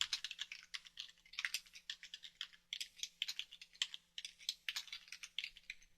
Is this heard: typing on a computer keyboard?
yes